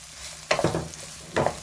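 Onions and garlic fry in hot oil in a pan, with two bursts of stirring and sizzling, close and fairly loud, over a quieter background hiss.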